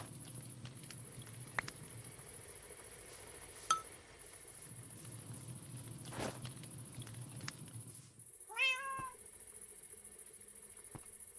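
A cat in the Minecraft video game gives a short meow near the end, rising and falling once, after quiet footsteps and soft patter in a low background hum.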